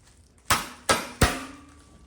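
A rubber mallet taps the arm of a Core bench frame loose: three distinct, fairly loud, hollow knocks spaced roughly half a second apart, each ringing out briefly over a quiet room.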